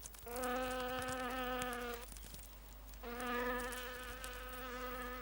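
Domestic bees buzz in two close, sustained bursts of droning hum separated by a short pause, with a faint steady background hum throughout.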